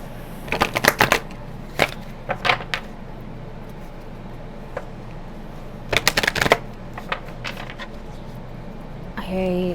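Tarot and oracle cards are shuffled in several quick, close, crisp riffling bursts separated by quieter pauses, with a soft voice briefly near the end.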